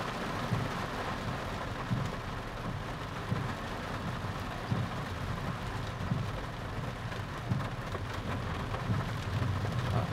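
Heavy rain drums steadily on a Proton S70 during a drive, a dense continuous wash with low rumbling road noise underneath and occasional louder thumps, no voices.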